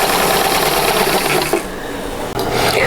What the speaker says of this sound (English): I just got done sewing all that, going around the outside